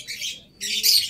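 An African lovebird in a breeding cage gives two short, harsh, high squawks in quick succession, close and loud.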